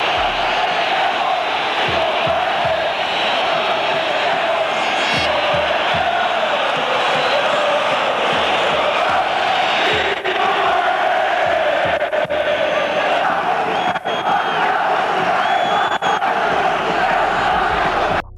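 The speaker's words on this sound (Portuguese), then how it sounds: "As vaias eram tão altas que Figo chegou a tapar os ouvidos" A huge stadium crowd at Camp Nou boos and jeers Luís Figo during his first match there for Real Madrid, a loud, unbroken roar of whistles and shouting that lasts throughout.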